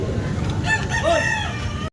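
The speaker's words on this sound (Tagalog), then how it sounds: "Ang daming manok." A fighting rooster crows loudly and close by, one drawn-out cock-a-doodle-doo over a busy background of many other clucking gamefowl.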